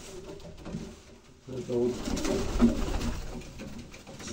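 Pigeons coo at a dovecote among red pigeons, their low calls heard close under someone talking and some handling noise.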